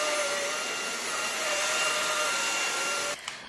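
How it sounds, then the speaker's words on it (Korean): A Dibea X10 Plus cordless vacuum cleaner runs in power mode, a loud steady whirring whine heard close up that cuts off near the end. "일반 소음이 좀 더 작지만 일반, 파워, 모드 소음은 일반 청소기와 비슷하다고 느껴졌습니다"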